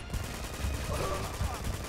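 Blind-fire gunshots in Uncharted 2, a rapid string of game gunfire running steadily through the whole moment, dense and fairly loud with low thumps and some background clutter.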